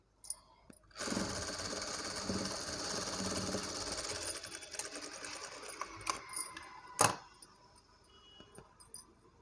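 Sewing machine top stitching the back neck of a blouse, a steady fast whirring run for several seconds, then stopping, followed by a few faint clicks and a brief sharp clack, quiet and close.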